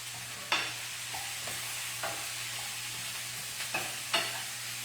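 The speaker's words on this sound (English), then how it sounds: "Let me give my sweet potatoes a stir." Sweet potatoes for shrimp curry stirred in a pan over medium heat, a steady faint sizzle broken by a handful of scraping strokes and light knocks of the spoon, close and quiet.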